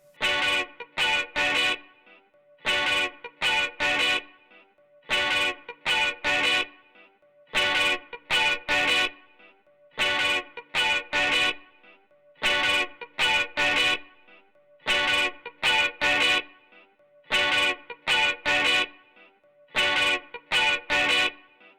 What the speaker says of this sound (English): With this next guitar, it translates in a sharper distortion sound.